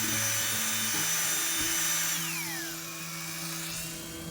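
A power drill fitted with chopsticks whips canned coconut cream with vanilla extract, a loud, steady motor whine near the mic that drops in pitch and softens as it slows partway through.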